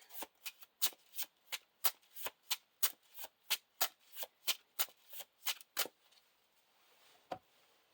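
A deck of cards for the Lord of the Rings card game is shuffled into the encounter deck: about eighteen quick, evenly spaced riffling snaps close by, then one last tap after a pause.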